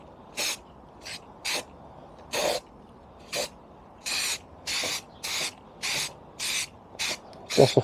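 An aerosol can of Halfords plastic primer gives about a dozen short hissing spray bursts in quick succession, close and clear, with quiet pauses between them.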